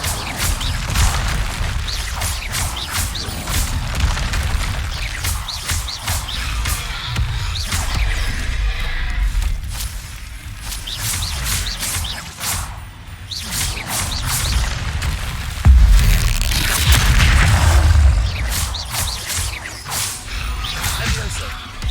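Repeated fire and summoning spell effects in the Hogwarts Legacy video game: a dense run of whooshes, swishes and booming impacts, loud and continuous, with a speaking voice mixed in.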